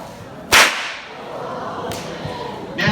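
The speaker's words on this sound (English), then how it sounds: "When we crack the whip, it makes a very loud bang." Australian stock whip cracked by a stockman, giving one sharp, loud crack near the start followed by quieter background, with two fainter snaps later.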